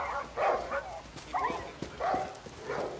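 Several dogs barking in a video game, a few scattered woofs and yelps at moderate distance in short bursts, with quieter gaps between them.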